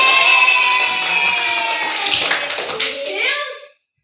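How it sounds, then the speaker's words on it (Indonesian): Schoolchildren in a classroom clap together on cue, sharp hand strikes mixing with their chanting voices, loud and close before stopping abruptly. "Oke, betul. Tepuk tangan."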